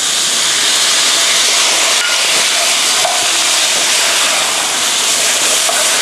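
Pork ribs and lemongrass stir-fried in a hot pan, seasoned with sugar, oyster sauce and fish sauce, give a loud, continuous hiss and sizzle with no talking.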